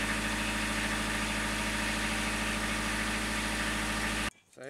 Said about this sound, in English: So we've let the engine run for a little bit.